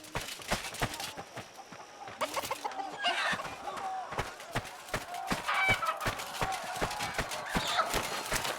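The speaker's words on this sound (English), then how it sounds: "So your regular phrases are replaced with chicken sounds, which is hilarious." Chicken clucking sounds in Red Dead Redemption 2 replace the character's spoken phrases while a chicken is held. The bursts come as a dense run of quick, sharp clucks and squawks, loud and close, with no talk.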